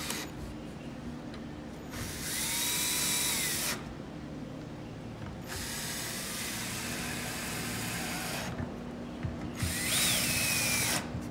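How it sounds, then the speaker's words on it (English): A power drill drives screws into a wooden convertible bench/table, with several sustained whirring bursts of a few seconds each, separated by brief pauses, close and fairly loud. "Finish off putting the other four screws in."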